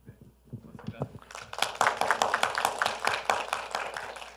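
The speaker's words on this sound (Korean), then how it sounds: "따뜻한 박수로" Audience applause at a talk on the metaverse and Korea's future, with scattered claps building into steady clapping amid a murmur of voices.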